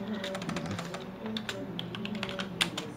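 Computer keyboard being typed on, a quick series of close, crisp key clicks and taps with a voice speaking over them.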